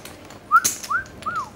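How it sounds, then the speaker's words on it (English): A man whistles at a poker table: three short rising-and-falling whistled notes in quick succession, clear and close, with a brief click between the first two. "Whistling."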